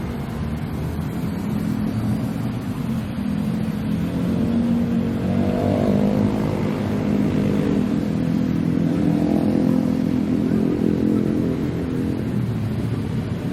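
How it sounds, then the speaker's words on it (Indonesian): Dense night-time road traffic of cars and motorcycles, heard from above as a continuous loud rumble of engines and revving with no letup, alone without talk. "Kondisi saat ini cukup padat lalu lintas."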